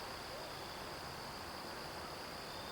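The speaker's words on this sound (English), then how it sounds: "Can you hear the crickets? Some of the birds in the distance," Crickets chirp at night outdoors as a steady, thin, continuous trill, faint and set against a broad hiss of background noise.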